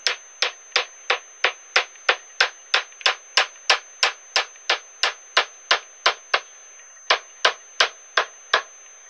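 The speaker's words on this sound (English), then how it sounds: "So I'm just going to start whacking it in there." Evenly spaced sharp hammer blows drive a bearing into a piece of wood, about twenty loud close strikes at a steady rhythm, with a short pause near the end before a few more hits.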